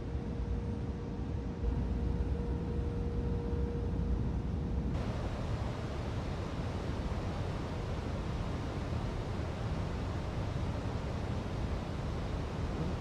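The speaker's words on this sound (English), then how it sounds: "Are you talking about the white noise that you constantly hear in the background?" Steady broadband hiss fills the cockpit of a Fenix A321 flight simulator, a constant white-noise wash like airflow that runs unbroken for the whole stretch, with a faint tone fading out early on.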